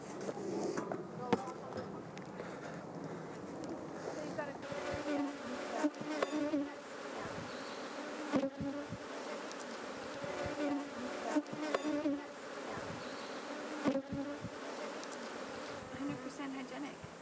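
Bees buzz steadily around a hive kept for breeding hygienic, disease-resistant queens, a dense continuous drone with a few louder passes close by, and faint voices in the background.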